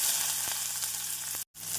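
Steady, dense sizzling of chopped onions frying in hot oil with urad dal and cumin, close and continuous, with a brief dropout near the end.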